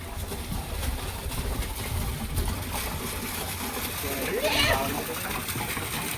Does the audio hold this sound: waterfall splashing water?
yes